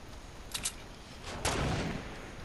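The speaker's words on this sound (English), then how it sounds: "Stop sniping away," Sniper rifle shots in the Fortnite video game, two sharp separate cracks about a second apart, the second louder and trailing into a short echo over faint game background.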